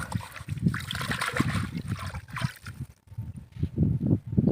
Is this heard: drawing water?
yes